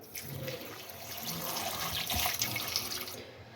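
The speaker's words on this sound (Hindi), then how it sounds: "और अब इसके अंदर 1 लीटर पानी डाल दें" About one litre of water pours steadily into a cooking pot for homemade peach juice, a continuous close splashing gush that stops abruptly near the end.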